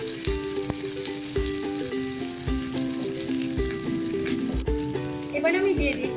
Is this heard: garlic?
yes